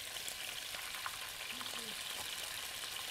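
Chicken pieces frying in a skillet, a continuous soft hiss and crackle of sizzling oil with light scattered pops throughout, fairly quiet and with no one speaking over it.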